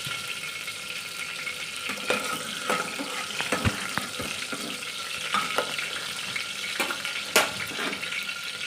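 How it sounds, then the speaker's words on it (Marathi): Green chillies fry in a couple of spoons of oil, a steady close sizzle with occasional stirring clicks and scrapes of a spoon against the pan, no talk. "मिरची चांगली परतून घ्यायची आहे।"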